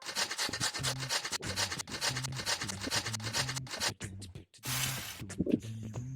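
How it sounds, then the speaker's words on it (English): Pizza ingredients are grated in a cartoon kitchen, a rhythmic series of rasping rubbing strokes, close and fairly loud, repeating evenly before a brief pause and a final few scrapes. "We need to grate this."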